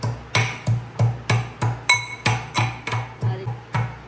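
Garlic pounded with oil in a stone mortar for Gujarati garlic chutney, a steady series of about eight heavy thuds roughly every half second, close and moderately loud.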